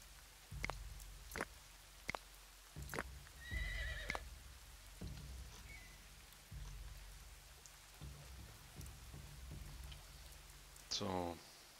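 Horses neigh several times in the Dawn of Man video game, with a rising whinny near the end, over steady rain ambience and scattered thumps or taps.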